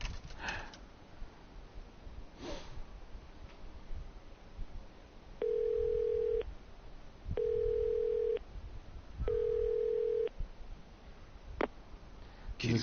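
Payphone in a Yakuza video game: three steady electronic tones, each about a second long, repeat at even intervals over faint background noise, with no talking.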